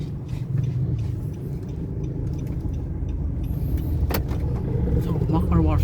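A Nissan Calibre with throttle delay and a transmission hum, heard from inside on a test drive: a steady, low engine and road drone that builds slightly, with people talking over it.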